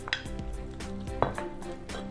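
Shrimp dropped into a pan of tomato and wine sauce, giving soft clinks and wet plops over a faint simmer, close and fairly quiet.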